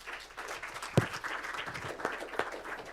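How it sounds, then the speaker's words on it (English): An audience at a talk on wildfire risk in the Chernobyl exclusion zone claps to welcome a speaker: steady, dense applause from a crowd throughout, with a few sharper individual claps standing out. "please give a warm welcome applause to Sergiy Zibtsev."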